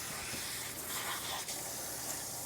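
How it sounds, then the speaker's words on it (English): Tap water sprays steadily over fresh spinach leaves being rinsed in a kitchen, a continuous close hiss with no talking. "So I'm gonna put some spinach in there and we'll get that ready to go. We'll rinse it off."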